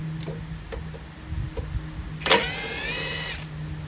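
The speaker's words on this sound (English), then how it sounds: "So it does start, but it doesn't stay running because the carburetor is still dirty." Small lawnmower engine with a dirty carburetor cranking and briefly catching, low motor drone with a few clicks before a sharp start burst and a short, bright high-pitched whine that fades out.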